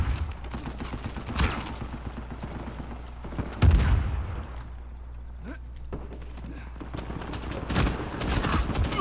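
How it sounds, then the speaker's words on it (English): Gunfire in the video game Rainbow Six Siege crackles in rapid bursts over a busy layer of in-game noise, with one heavier burst near the middle and a voice heard faintly now and then. "I'm getting shot in my back."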